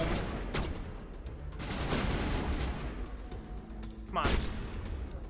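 Bursts of gunfire from a gun in a first-person shooter game, a few sharp shots with a louder burst near the end, heard under someone talking.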